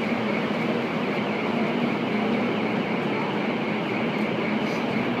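Steady rolling rumble and hum of the tram running between the Bellagio and Aria in Las Vegas, continuous and even with no talking.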